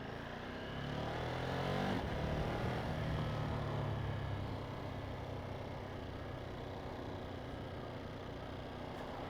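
A Ducati Monster 937 motorcycle with its standard exhaust rumbles and revs, the engine note swelling early and then settling into a steady drone, heard alone without talk.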